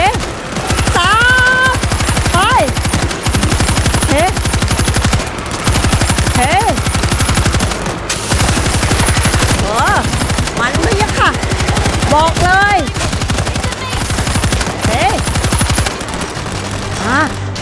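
Loud, sustained machine gun turret fire in the zombie shooter World War Z in Marseille, a rapid unbroken rattle of shots lasting many seconds, with people talking over it.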